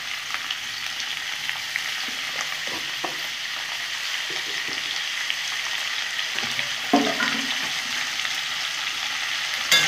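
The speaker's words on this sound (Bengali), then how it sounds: "আমি একটু হলুদ দিয়ে ভেজে নেব।" Marinated chicken with turmeric frying in a pan gives a steady bright sizzle throughout, with a few soft stirring scrapes and clinks, close and alone without voices.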